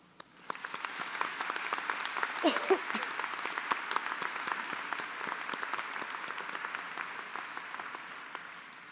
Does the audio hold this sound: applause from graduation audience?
yes